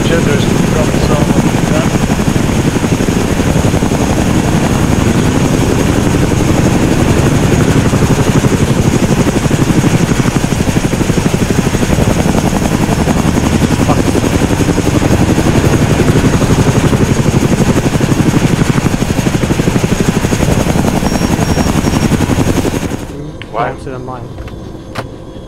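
A helicopter in the ARMA 3 military game, its rotor and engine drone running loud and steady for most of the stretch before cutting off abruptly near the end, followed by faint clicks and thuds.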